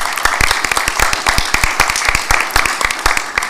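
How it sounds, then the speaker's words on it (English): Audience applause at a meeting of an Africa-focused initiative, a loud burst of many close, rapid hand claps running steadily without pause and with no voices over it. "I think we can applaud Hamza for"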